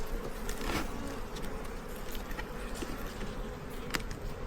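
Bees in an opened beehive give off a dense, continuous buzzing hum close by. Individual insects drone past now and then.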